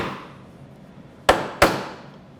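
Two sharp, loud chisel strikes, likely mallet-driven, land about a third of a second apart as a mortise is chopped in wood for a three-way puzzle-stool joint, following a quieter decaying knock.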